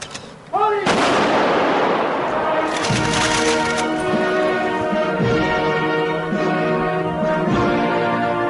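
A military ceremonial volley of rifle gunfire after a fire command, a sharp loud crack followed by ringing echoes and repeated shots, with a voice briefly heard before it.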